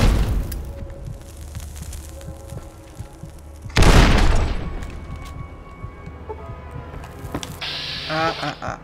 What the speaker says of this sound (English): I'll just coax them back here with some dynamite and... Whoa!